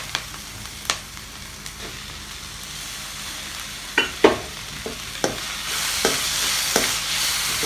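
Ginger garlic paste sautés in a pan while being prepared for a vegetable roll snack, giving a steady sizzle broken by scattered scraping stirs of a spoon, some louder, with the hiss growing brighter toward the end.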